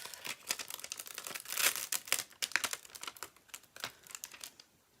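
Close, crackly crinkling and faint tearing as a big clear stamp is peeled from its plastic backing, a quick series of small crisp crackles.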